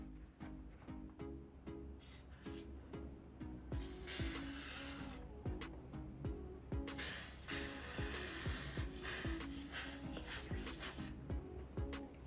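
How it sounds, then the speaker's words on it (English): Faint, repeated spritzes of makeup setting spray mist over a face from a short distance, running together into an uneven, rustling hiss with no talking. "So yeah, I'll just spray all over my face from a distance, but you shake it first before you spray."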